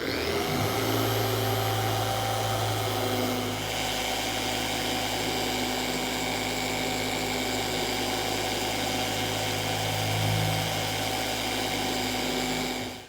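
Wet sanding of car paint using a Rupes X Cut foam abrasive disc on a power sander, giving a steady, loud, continuous motor whine and hum throughout, with no talking.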